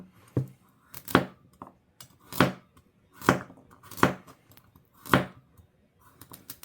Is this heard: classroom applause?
no